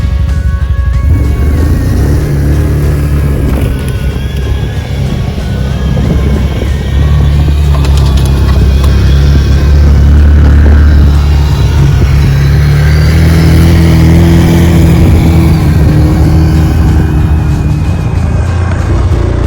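A tow truck engine drones loud and steady as it strains on ropes to drag a stuck vehicle out of a bog outdoors in Labrador, a heavy continuous rumble rising slightly midway.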